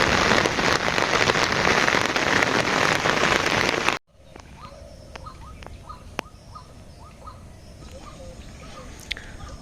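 Rain pours steadily over village fields and a pond in a dense, loud hiss that cuts off abruptly partway through, leaving a quieter wet ambience with scattered drips and faint bird chirps.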